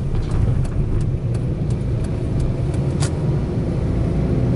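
Subaru Stella kei car engine running steadily while driving, a continuous mid-level drone with road noise throughout, no talk.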